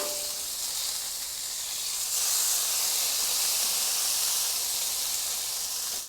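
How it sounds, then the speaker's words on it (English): Bacon and jalapenos sizzle steadily on a hot griddle, a dense, even frying hiss that swells slightly after the first couple of seconds and carries on unbroken with no voices. "you got some bacon rendering right there"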